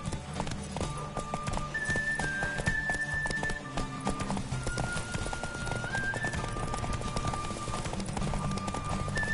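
Horse hooves clip-clop at a quick gallop in the PS4 video game Brujaer 3, steady and close, with occasional whinnies and a constant background hum, no talking.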